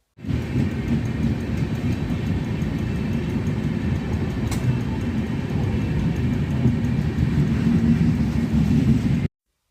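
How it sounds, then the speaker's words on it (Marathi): The Bidar–Yesvantpur passenger train rumbles steadily past a closed level crossing at close range, a loud continuous roar of wheels and cars that holds for several seconds before cutting off. "ही बिदर यशवंतपूर ट्रेन आहे"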